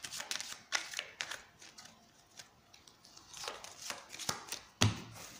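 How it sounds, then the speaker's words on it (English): A deck of normal playing cards is shuffled by hand in quiet surroundings, producing soft, repeated riffling and snapping bursts in an irregular rhythm, close and fairly faint. "Shuffle, normal card, no gin, no duplicates, normal card."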